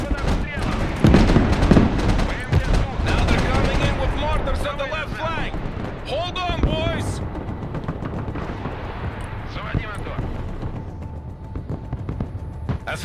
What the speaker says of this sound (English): Now they're coming in with mortars on the left flank!